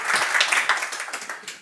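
Audience clapping at the close of a talk at a tech conference session, a dense, steady patter of many hands filling the room for under two seconds, with no talking over it.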